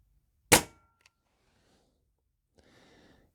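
A single sharp, loud report from a Crosman Crusher air rifle being shot while checking the seal after dieseling, with an abrupt attack and a quick decay, followed by near silence and then faint shuffling handling noise.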